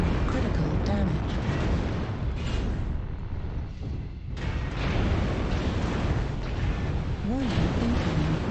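Missile and weapon explosions in the mech combat game MechWarrior Online, a dense, continuous roar of blasts and rumbling impacts with a few surging bursts, loud and close throughout, with warning-like tones layered in.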